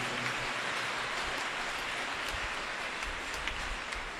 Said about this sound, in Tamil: எல்லாருக்கும் பலத்த ஒரு கைத்தட்டி நம்முடைய பாராட்டுதலை நாம் தெரிவித்துக் கொள்வோம்